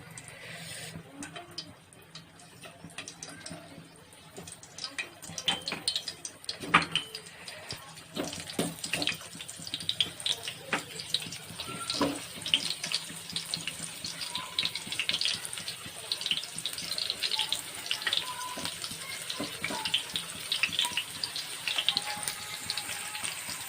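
Bitter gourd pieces fry in hot oil, a continuous soft, bubbly sizzle that grows busier and denser as it goes on, fairly quiet and close.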